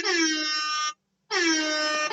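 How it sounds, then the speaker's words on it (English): An air horn sound effect blasts twice, two loud brassy honks of about a second each with a short gap between them, heard alone. "A couple of air horns actually."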